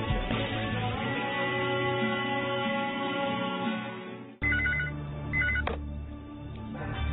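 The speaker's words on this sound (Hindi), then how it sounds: "ओनर साहब, मिस मेहरबान का फोन है।" Electronic phone tones warble steadily, then switch to a beeping ring pattern with repeated chirps, loud and close.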